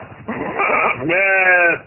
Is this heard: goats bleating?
yes